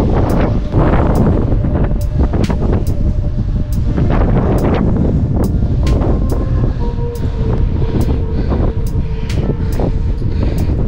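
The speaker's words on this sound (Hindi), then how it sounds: "हवा तेज़ हो गई एकदम" Strong monsoon wind on the Duke's Nose trek near Lonavala buffets the microphone in a loud, continuous roaring rush, with recurring sharp ticks and knocks throughout.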